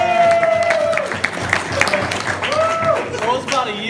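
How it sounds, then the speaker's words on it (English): A short burst of applause rises at a meeting, the clapping loud and brief, with voices speaking over it. "How about a round of applause to start?"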